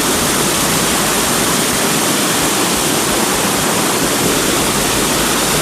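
The Kawaldhara waterfall in the Maikal hills drops around 30 feet, giving a loud, constant roar of rushing water at close range with no breaks and no voices.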